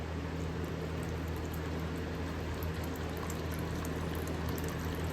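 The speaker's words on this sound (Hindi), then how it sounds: "तो ये पानी डालेंगे हम इसमें।" Water pours steadily into a protein mix, a continuous close trickle and splash that holds at an even level with no talking over it.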